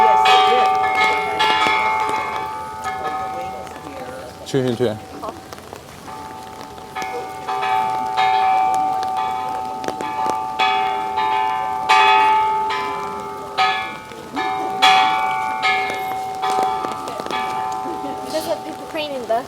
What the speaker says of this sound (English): to ring the bell